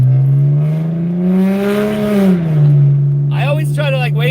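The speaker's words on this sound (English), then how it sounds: "my car is pretty loud." A loud BMW E36 M3 engine drones at night, its low, steady hum rising and falling slightly in pitch, with a brief voice heard over it near the end.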